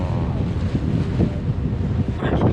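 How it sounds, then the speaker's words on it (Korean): Strong wind buffets the microphone aboard a ferry turning past the Sydney Opera House, a steady loud roar with gusty surges and faint water and engine rumble beneath. "하지만 강한 바람 때문에 머리가 산발이에요."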